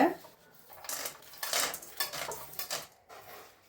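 Roasted snack ingredients, including roasted gram, peanuts, cashews, coconut and curry leaves, are tipped into a bowl, giving quick clattering rattles and scrapes against the dish in short bursts, close and fairly soft, with no talking.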